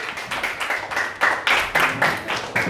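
A classroom group claps for a student group after a lesson on arithmetic series, a close run of brisk, evenly paced handclaps that fills the short moment.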